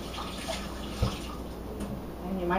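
Water from a tap runs in a soft, steady hiss while hands are rinsed in a kitchen during baking, faint and continuous with a small splash midway.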